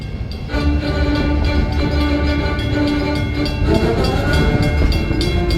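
A steady, loud rumble of the Walt Disney World Railroad train at Magic Kingdom, Orlando, with constant rolling clatter throughout, a slight surge in intensity partway through, no voices.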